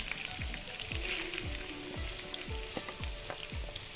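Chopped onion sautéing in a pan with garlic for a white lobia masala curry, a steady dense sizzle with the rhythmic scrape of a spatula stirring every half second or so.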